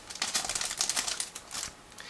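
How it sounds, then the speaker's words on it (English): Scissors snip through a sealed plastic bag from a Miniart 1/35 US bulldozer model kit, giving a close, crisp run of rapid cutting clicks and crinkles that ease off toward the end. "I'm going to use scissors in order to cut through"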